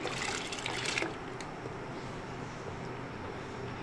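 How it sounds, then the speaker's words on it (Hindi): Soaked sella rice, steeped for two hours, tips into a pot of water just coming to a boil, with a loud rushing pour for about a second followed by a steady bubbling hiss. "तो अब इसके अंदर हम जो सेला चावल है हमारा भीगा हुआ 2 घंटे, अब हम ये ऐड कर देंगे।"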